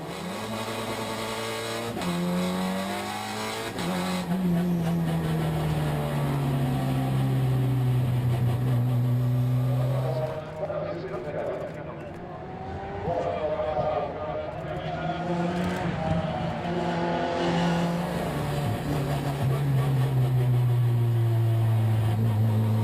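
Race cars accelerate off the line at the start of a 24-hour endurance race at Barcelona, their engines rising and falling in overlapping whines. A commentator talks continuously over the engine noise.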